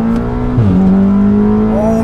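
A big-turbo Audi S3 pulls hard on its first acceleration run, its engine note holding a strong steady drone that dips briefly at a shift and then climbs again, loud and close from inside the car.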